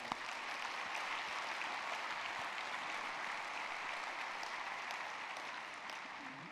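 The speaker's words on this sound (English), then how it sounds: "join me in a round of applause for CSI employees" Audience applause for company employees at a corporate keynote event: dense, steady clapping from a large crowd, fairly distant and filling the room evenly, fading slightly at the end with no voices heard.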